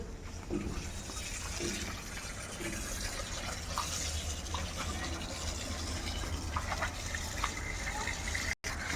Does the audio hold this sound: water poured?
yes